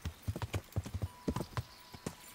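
Horse hooves clip-clop in steady, uneven beats in the medieval video game Kingdom Come: Deliverance, with close, distinct footfalls sounding alone and no talk over them.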